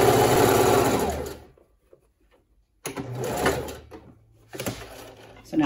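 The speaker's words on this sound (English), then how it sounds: "if you prefer to sew it from the underside, you can do that as well." Sewing machine stitching leotard leg openings in close, fast whirring runs, one long burst, a pause, then two shorter bursts.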